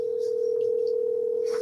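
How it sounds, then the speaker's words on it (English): A steady single-pitch telephone tone hums without a break, fairly quiet, with faint line noise and clicks around it. "Hopefully you can hear the ringing okay."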